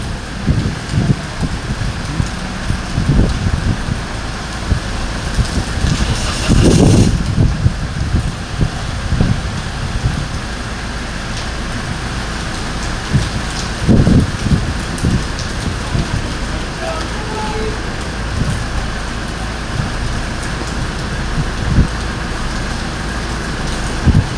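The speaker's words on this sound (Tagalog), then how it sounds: "lakas po ng hangin" Heavy typhoon rain pours steadily while strong gusts of wind surge and buffet close by, with loud rumbling bursts rising out of the roar.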